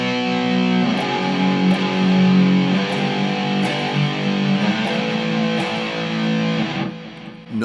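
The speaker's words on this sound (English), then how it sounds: "If I just played regular power chords, it would sound like this." Heavy distorted electric guitar power chords in E standard tuning chug in a thick, sustained riff, loud and alone, ending with a brief cut-off.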